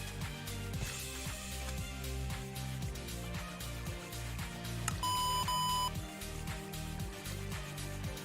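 In a modded Minecraft world, two short electronic beeps ring out near the middle, clear and tonal, over a busy bed of game music and ambient noise.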